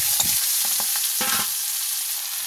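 Vegetables tumble into hot oil already crackling with fried bay leaf and cumin, giving a few loud bursts of sizzle and clatter, then a steady frying hiss with light stirring.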